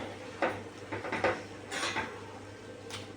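Clanking of a metal cooking pot and lid as it is opened to check simmering banana stem and lentils, a few short sharp clinks and scrapes spread over three seconds, quiet and close.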